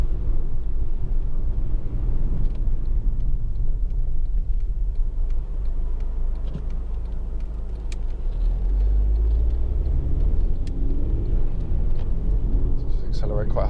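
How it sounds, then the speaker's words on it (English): A 2.2-litre diesel Honda Accord automatic accelerating hard from inside the cabin, a steady low engine rumble and road noise that swells and deepens as it pulls, fairly subdued overall. "Accelerate quite hard away."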